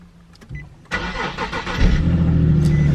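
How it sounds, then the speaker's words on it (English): A Nissan 370Z Nismo cold starts close by: a brief starter whir, then the engine catches with a loud burst, revs up, and settles into a steady, raspy high idle. "Little cold start."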